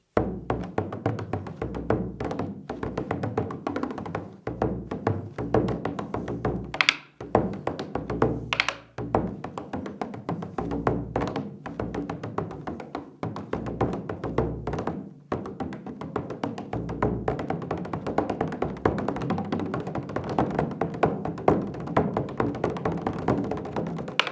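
A bodhrán frame drum played with a tipper stick, fast rolling strokes in a steady rhythm with deeper thuds and tonal changes, close and continuous.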